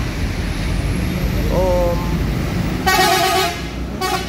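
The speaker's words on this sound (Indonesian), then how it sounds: "mantap klakson ya" A front-engined bus horn blares loudly twice, a long blast then a shorter one, over rumbling road and engine noise, with a voice briefly heard earlier.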